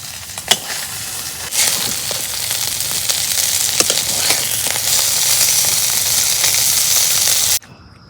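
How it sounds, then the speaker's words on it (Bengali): Fish frying in a pan while a gourd and fish curry is being cooked, a steady loud sizzle with scattered crackles and pops, ending abruptly near the end. "মাছ ভাজা হয়েছে"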